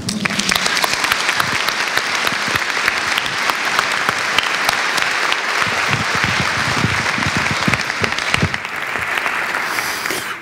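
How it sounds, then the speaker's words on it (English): Sustained applause from a temple congregation at a Mother's Day service fills the room, dense and steady for about eight seconds before thinning slightly toward the end, with no voices over it. "let's give them one more round of applause"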